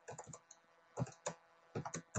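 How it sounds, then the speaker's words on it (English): Keystrokes on a computer keyboard while entering R commands, coming in short bursts of crisp, close clicks separated by pauses in a quiet room. "I'm typing it again"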